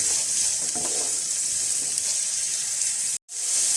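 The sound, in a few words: mixing shredded cabbage and vegetables in a pan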